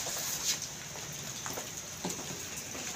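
Rain patters lightly and steadily on a rooftop or courtyard surface, a soft continuous hiss with a few sharper drips, fairly quiet with no talking.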